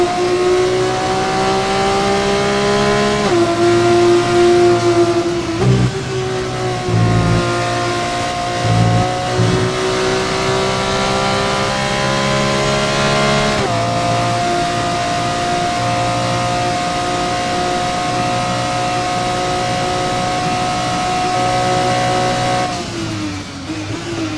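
F2 race car engine from the F1 24 video game at Spa, on the final lap of a race: a loud, sustained high-pitched engine whine with gear changes and rising and falling pitch, running throughout with no talk.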